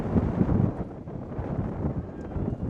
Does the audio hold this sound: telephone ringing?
no